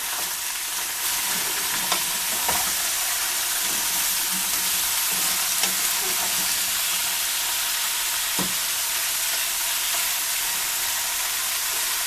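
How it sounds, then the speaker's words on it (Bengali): Chinese mixed vegetables with bell pepper are stir-fried in a pan, giving a steady close sizzle with occasional scraping stirs of the spatula throughout. "এখানে আরেকটি জিনিস আছে এটা হচ্ছে বেল পেপার এটা এটার সাথে আছে আমরা ভালো মতো এখন এটা নেড়ে দিব"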